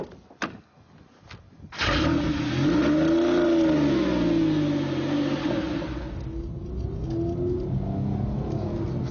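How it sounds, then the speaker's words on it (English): A Porsche engine revs up loud and close after a few brief knocks, its note sweeping up and down in strong harmonic waves before settling into a steady drone at low town speed. "the engine sounds at its best when you're going 14 miles an hour"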